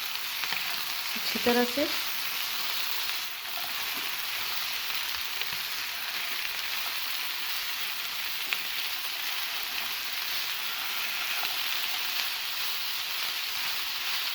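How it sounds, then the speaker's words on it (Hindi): Capsicum and tomato fry in a pan for chicken pizza cutlets, giving a steady, moderately loud sizzle that runs throughout. A short spoken phrase and a faint stir come early. "सब्ज़ी को तकरीबन 2 मिनट के लिए मैंने फ्राई कर लिया है"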